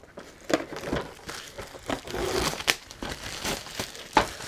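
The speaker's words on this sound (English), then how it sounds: "Cellophane off of that." Cellophane wrap peeled off an Aliens board game box, crinkling and crackling in short bursts close to the microphone, with brief pauses between tugs.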